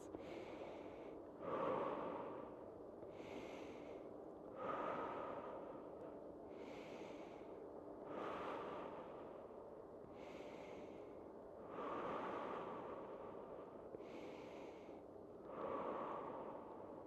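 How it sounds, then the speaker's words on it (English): A person in a breathing exercise inhales through the nose and exhales through the mouth in a slow, even rhythm, about six audible breath cycles each a few seconds long, soft and close with no talking. "breathing in through the nose and out through the mouth, 6 breaths"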